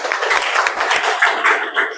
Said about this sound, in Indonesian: Tepuk tangan untuk kelompok Diki.